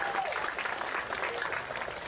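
Applause from an outdoor crowd at an evening polka concert on a green, steady and moderately distant across the short stretch, with faint voices mixed in.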